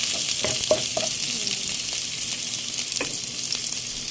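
Chop suey frying in a pan gives a steady, even sizzle throughout, with a few soft stirring clinks and scrapes, close and moderately loud with no talk.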